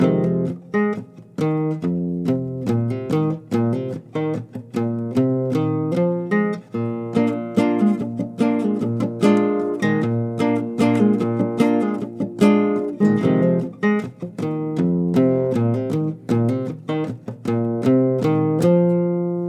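A guitar plays the busy, continuous opening riff of a song, plucked notes and strums with steady rhythm, close and fairly loud, with no talking.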